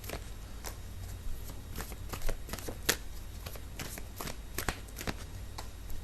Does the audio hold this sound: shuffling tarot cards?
yes